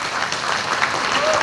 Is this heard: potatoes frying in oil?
no